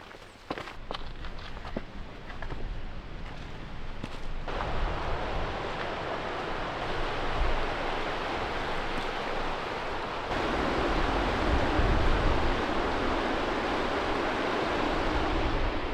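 River rapids rush beside the Skyline Trail at Beavers Bend State Park, a continuous broadband water roar that grows fuller partway through, mixed with footsteps and handling noise from hikers on the path.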